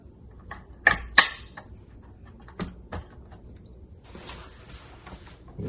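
A screw on a metal window-blind mounting bracket is loosened with a few sharp clicks and snaps near the start, then scattered fainter ticks and a soft hiss, close by and with no talk.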